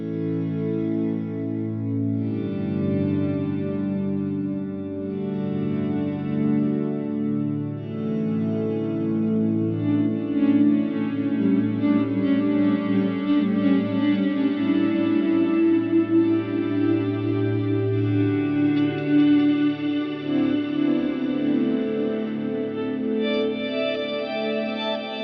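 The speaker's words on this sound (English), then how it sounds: "Now we're going to hear those delays completely smeared out around the spectrum." A sustained synth pad whose delays are smeared by diffusion into a dense, reverb-like wash, with no discrete echoes, holding steady and loud throughout with slowly shifting tones.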